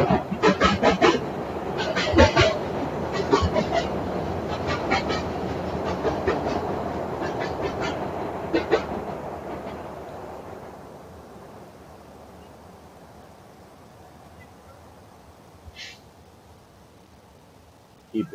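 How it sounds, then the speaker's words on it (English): Chicago L elevated train rumbling past a men's college soccer match, a loud continuous clatter of wheels on rails with rhythmic clicks that slowly fades over the seconds, faint outdoor ambience left at the end. "Sorry about that train noise again, folks. We are right by the L here in Chicago."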